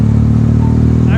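A Benelli TNT 300 motorcycle with a loud aftermarket exhaust on a night road ride, giving a steady, close, throbbing drone that holds at an even level throughout.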